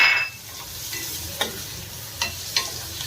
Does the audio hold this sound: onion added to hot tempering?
yes